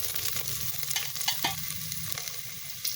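Onions sauté in a pan for adobong kangkong, a steady close sizzle with frequent scraping stirs and small crackles, and no voices.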